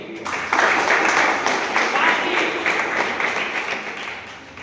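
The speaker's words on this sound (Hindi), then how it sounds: "इसके लिए आप सबके लिए पुनः आप जोरदार ताली बजाइए।" A school audience at an Independence Day event claps loudly and steadily, a dense wash of applause that holds for several seconds at close range.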